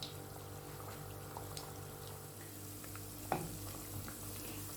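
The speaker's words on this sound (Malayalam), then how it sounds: "ഇനി നമുക്ക് ഓയിൽ ചൂടാക്കിയിട്ട് ഫ്രൈ ചെയ്തെടുക്കുക." Egg onion pakoda deep frying in hot oil, a steady low sizzle and bubbling that runs throughout with small crackles and one brief louder pop near the middle, no talk.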